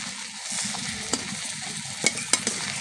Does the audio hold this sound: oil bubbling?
yes